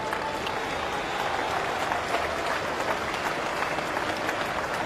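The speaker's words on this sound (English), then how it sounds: "Terrific reaction from the crowd and from Root." Cricket crowd applauding in a stadium during a Test match between England and Pakistan, a dense, sustained wash of clapping and cheering at even loudness, with faint commentary underneath.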